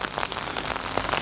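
Heavy October rain in Nottingham, England, a dense, steady patter of drops hitting surfaces close by, continuous with small irregular splashes.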